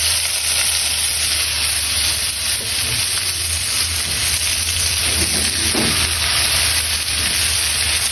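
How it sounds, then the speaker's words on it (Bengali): Kalmi greens frying in hot oil with browned onion and garlic, a steady dense sizzle and hiss that runs loud and close throughout with no pauses. "পেঁয়াজ আর রসুন লাল হয়ে এসছে, এখন শাকগুলো ভেজে নিব"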